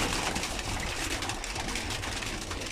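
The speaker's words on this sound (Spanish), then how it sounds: "aquí tengo mi parejita de diamante mandarín mota negra" Dense chorus of zebra finches calling and chattering continuously, with soft cooing mixed in, close by and steady throughout.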